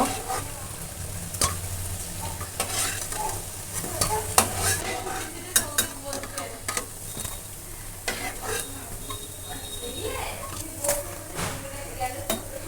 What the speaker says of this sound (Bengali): কোপ্তাগুলো ভাজা হয়ে গেছে এইভাবে ভেজে নিয়েছি